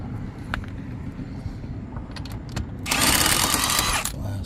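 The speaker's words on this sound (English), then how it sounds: "I'm going to use the lug wrench or the impact" An impact wrench on a Rivian wheel gives a loud, buzzing rattle near the end, over a low rumbling background with a few faint clicks before it.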